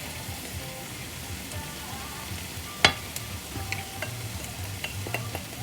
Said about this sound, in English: we're going to mix this and saute this till the raw smell goes away